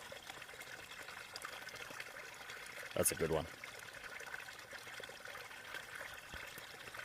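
A small stream trickles softly at a trail campsite water source near Doll Flats, a quiet, continuous gurgle with a brief burst of louder splashing and a short spoken remark over it.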